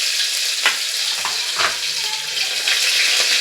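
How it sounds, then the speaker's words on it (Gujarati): Green garlic dropped into hot oil with cumin as a tempering for khichdi, a loud close hiss of sizzling with a few stirring knocks, no talking. "હવે ખીચડીનો વઘાર મારી દઈ તેલ નાખી દઈ"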